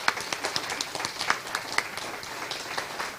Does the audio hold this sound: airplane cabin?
no